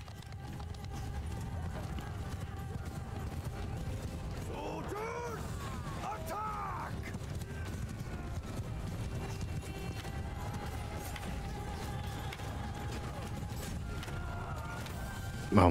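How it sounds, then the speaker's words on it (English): Horses gallop across a battlefield in the video game Mount & Blade II: Bannerlord, a steady dense rumble of many hooves with clattering and mechanical in-game noise layered over it, continuous throughout at moderate level. "They do have a ton of horses."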